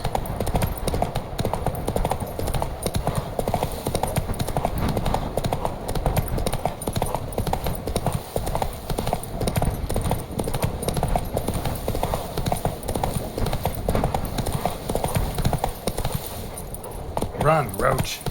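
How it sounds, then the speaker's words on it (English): A horse's hooves galloping in The Witcher 3: Wild Hunt, a fast continuous clip-clop rhythm close up and loud throughout, with faint game ambience beneath. "Run, Roach."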